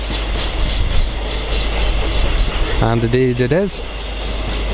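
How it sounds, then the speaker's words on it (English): A Freightliner Class 66 diesel freight train rushes past at speed, a loud steady roar of wheels and wagons throughout, with a person speaking briefly over it near the end. "looks like a Freightliner 66. Looks like that is coming in pretty quickly."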